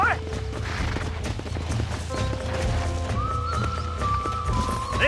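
Horse hooves gallop steadily and loudly in the Red Dead Redemption video game, with a continuous drumming rhythm over a game soundscape and a faint whinny-like tone near the end.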